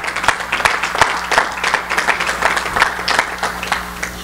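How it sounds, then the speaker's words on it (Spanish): A church congregation claps during a Spanish-language sermon on the Gospel of Matthew. The claps are distinct and fairly close, with irregular, uneven rhythm from a modest group, and no one speaks over them. "¿Cuánto le da un aplauso al Señor?"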